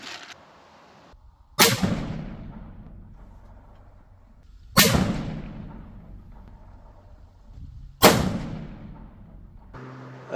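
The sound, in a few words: gunshot from custom .338 Lapua rifle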